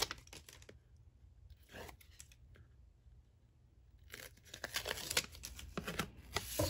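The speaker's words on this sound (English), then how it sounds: "So then I'm adding this 1/4 inch tape again, and then I'm gonna add my last piece." Narrow 1/4 inch adhesive tape is pulled and torn in short crinkly bursts while a scrapbook mini album is assembled, quiet at first and busier with rustling toward the end.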